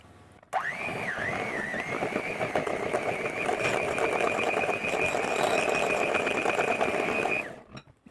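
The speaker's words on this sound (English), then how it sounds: "I'll give that a bit of a mix first and then I'll put the milk" An electric mixer whirs steadily through a cake batter of flour and eggs for an old-fashioned 1-2-3-4 cake, a loud, even, high-pitched motor whine that starts abruptly and runs unbroken for about seven seconds before cutting off.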